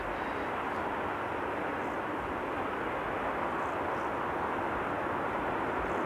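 A KLM airliner arrives at Amsterdam Schiphol, heard as a steady, broad jet roar that holds at an even level the whole time, with no voices over it.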